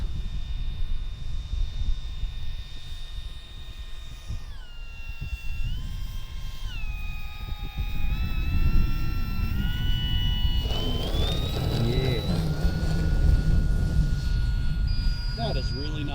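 Bigfoot 1300mm ready-to-fly RC airplane making a touch and go on grass without flaps, its electric motor whining steadily overhead and shifting pitch as throttle changes, with wind rumble, outdoors at moderate distance.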